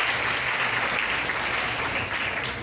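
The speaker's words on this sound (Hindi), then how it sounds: "ताली बजाओ बच्चों।" A roomful of schoolchildren claps steadily and fairly loudly for a few seconds during a Sahaj Yoga session at a school in Jacobpura, Gurugram, with no voices over it.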